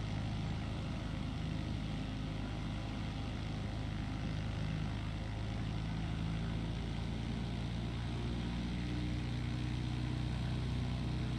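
A Bird Dog propeller airplane in flight over Alaska, with a steady, loud engine drone and propeller hum holding constant throughout, close and unbroken, with no talk over it.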